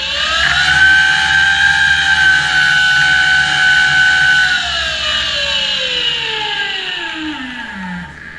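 QS 138 V3 electric dirt bike hub motor with EM-260 controller revving under throttle, a loud rising electric whine that holds steady, then drops smoothly in pitch as it spins down near the end.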